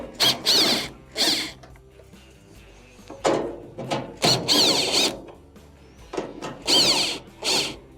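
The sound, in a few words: removing 1/4 inch screws from Maytag dryer console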